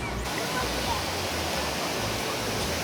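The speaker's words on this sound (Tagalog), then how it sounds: "May falls, may mini falls dito." Waterfall at Tinuy-an Falls, a steady, loud roar of rushing water that fills the whole moment without a break.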